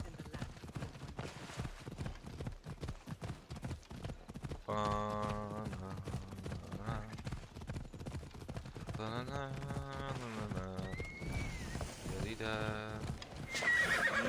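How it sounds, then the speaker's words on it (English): A horse in the Assassin's Creed Odyssey video game gallops with quick steady hoof clops, then neighs loudly several times, with a player talking over the game audio. "This is probably the first time I ever really used another horse besides Phobos."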